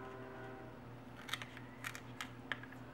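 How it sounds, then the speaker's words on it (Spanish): A few sharp, crisp snips of scissors trimming the tips of artichoke leaves, close by, over a steady low humming background. "con una tijera nada más le vamos a ir cortando las puntas"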